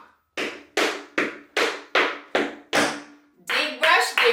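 Crisp tap-shoe strikes on a hard floor, a double paddle and roll of about eight sharp hits in a steady rhythm, ending in a quick flurry of faster taps.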